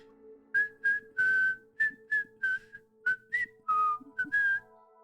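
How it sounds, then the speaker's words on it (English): A person whistling a short, lively tune close to the microphone, about a dozen clear, bright notes in quick phrases with brief gaps between them. "Time to hear your whistle."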